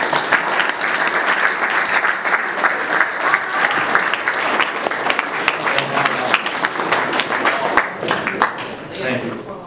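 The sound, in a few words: applause for award winners at a sports banquet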